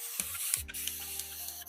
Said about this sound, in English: I'm just going to go in with my spray bottle